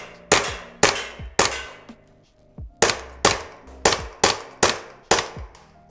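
Sharp, loud reports from a KWA ATP-GT airsoft pistol fitted in a carbine kit, fired as nine shots in two bursts separated by a short pause, each with a metallic clack and quick ring-out.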